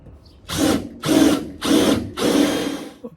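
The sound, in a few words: step drill drilling hole in VW Beetle door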